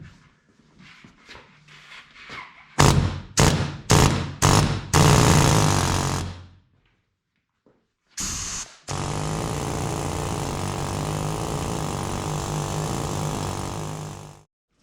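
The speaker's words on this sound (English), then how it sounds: "we're going to try an air chisel on this to see if we can get it free that way" An air chisel hammering at seized suspension parts on a Nissan Frontier, loud and close, first in several short sharp bursts, then after a pause in one long sustained run.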